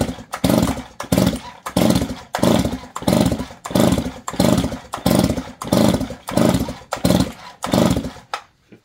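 A Poulan Pro 305 chainsaw, throttled up with the choke off, revs in a rapid series of about a dozen loud, close bursts, each rising and falling in an even pulsing rhythm.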